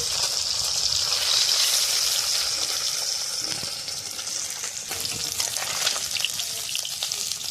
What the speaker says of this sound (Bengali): এগুলো হয়ে গেছে ভাজা, টান টান করে ভাজা হয়েছে